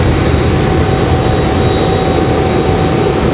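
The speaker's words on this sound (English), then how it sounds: "JetBlue is going to land over there." A JetBlue airliner arriving from San Juan, Puerto Rico, coming in to land on runway 23 left at Raleigh-Durham International, a loud, steady broadband roar with no talk.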